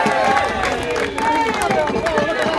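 Spectators cheer and clap runners on at the Olney pancake race, a steady roar of outdoor crowd noise with voices and claps close by throughout.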